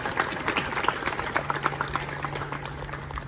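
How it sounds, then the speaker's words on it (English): Scattered, fairly faint clapping rises from an audience at the outdoor opening ceremony of an affordable housing community in Anaheim, a few loose bursts over a low steady hum. "I'd like to give you a round of applause."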